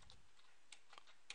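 Keys tapped on a computer keyboard while entering a command at a prompt, a few quiet, sparse clicks at an uneven pace, close and faint with no talking.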